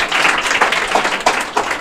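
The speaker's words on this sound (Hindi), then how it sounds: "और जोरदार तालियां इसके लिए बजा देंगे" Applause from a classroom audience celebrating a student at a coaching class, dense steady clapping filling the whole moment at close range with no talk over it.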